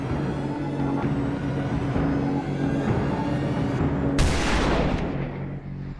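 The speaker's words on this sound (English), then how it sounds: "What do you want to bet the first shot he misses?" A single loud crack from a scoped sniper rifle cuts in sharply about two-thirds through, standing out over a steady outdoor background rumble before fading away.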